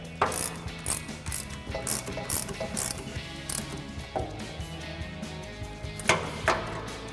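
A 19mm ratcheting wrench tightens a suspension bolt on a 2019-2024 RAM 1500 during a lift kit install, giving bursts of rapid close metallic clicks with short pauses and a few knocks, no talking.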